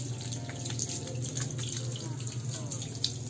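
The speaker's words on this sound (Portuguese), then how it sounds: "agora vamos enxaguar, está tirando o sabão aqui" Water runs steadily from a tap as soap is rinsed off a bird cage, a continuous close splashing stream with light drips, no voices.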